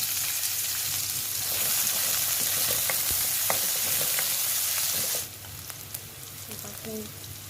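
Sliced spring onions stir-fried in a hot pan, a steady close sizzle and hiss with the scrape of stirring, quieter toward the end.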